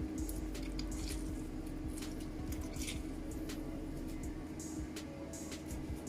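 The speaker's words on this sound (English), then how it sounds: "I'm gonna squeeze half of the lime" Wet squishing and dripping of juice being squeezed out of half a lime, steady and close, with a low rumbling hum underneath.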